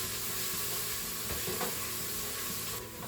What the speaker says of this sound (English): We now want to give this a good stir,